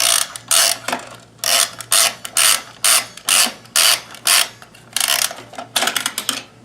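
A Kenmore 158.1914 sewing machine with a monogrammer attachment runs in a steady series of about a dozen short mechanical clattering bursts, each with brief pauses between them. The sound is close and fairly loud, with a faint low hum underneath and no voices.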